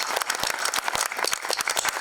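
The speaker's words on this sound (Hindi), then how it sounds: "जोरदार तालियां for ladies and gentleman for this parents who have made it here." Applause from the audience at a film trailer launch event honouring the parents, a steady wash of many hands clapping at moderate loudness.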